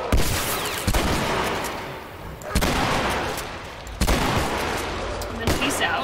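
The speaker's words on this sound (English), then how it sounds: "Shoot this thing a bunch." Gunfire from The Last of Us finale, several loud close shots in quick bursts with echoing decay between them, each blast ringing out before the next volley.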